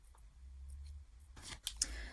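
Scissors cut out a printed nail decal sheet, with a faint low hum giving way to a couple of crisp, close snips near the end.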